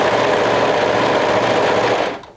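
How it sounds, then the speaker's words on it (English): Sewing machine stitching a garment sleeve, running loud and close with a steady, fast mechanical whir that stops abruptly near the end. "And let's stitch the other sleeve."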